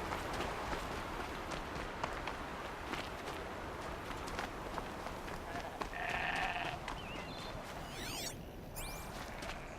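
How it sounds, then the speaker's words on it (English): A goat bleats in the Horizon Zero Dawn video game, a short nasal cry heard once amid steady outdoor ambience and footstep-like rustling, fairly faint under the game's background sound. "Alright, here's this goat."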